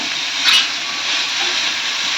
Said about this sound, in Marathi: हे मस्त असं आपण हाय फ्लेमवर परतून घेऊया तेलावर